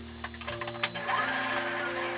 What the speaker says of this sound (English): For sewing machine owner, sew the middle part first, this curve.